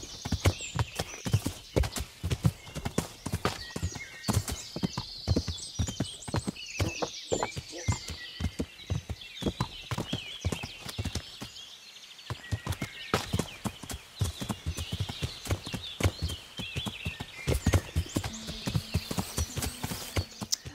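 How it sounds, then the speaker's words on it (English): Horse hooves clip-clop steadily in the medieval video game Kingdom Come: Deliverance, a brisk continuous rhythm of hoofbeats with a short pause midway, mid-level and without talk. "put me in charge of this horse."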